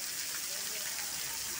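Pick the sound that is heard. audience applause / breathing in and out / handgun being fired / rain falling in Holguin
rain falling in Holguin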